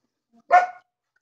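A single short, sharp dog bark in a living room, close and loud, standing alone in otherwise silent surroundings.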